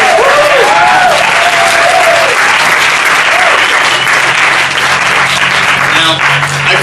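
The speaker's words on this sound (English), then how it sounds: "So let's give a big round of applause." Wedding guests break into loud, sustained applause at an evening reception, dense clapping close and continuous throughout.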